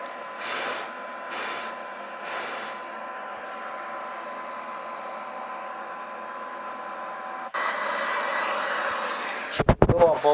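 Boeing 737-800 jet engines in Microsoft Flight Simulator X, a steady droning engine hum that swells louder and brighter partway through, with brief bursts of speech early on and a few clicks near the end.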